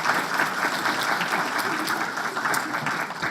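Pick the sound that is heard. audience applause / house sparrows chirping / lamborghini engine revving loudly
audience applause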